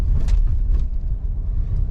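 Cars drive past on a busy Toronto street at night, a steady close rumble of engines and tyres that swells and fades as they pass, with no talk over it.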